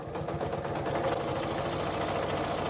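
A sewing machine runs steadily along a fabric edge at a quarter-inch seam, its needle hammering out a fast, even mechanical rattle up close and without pause.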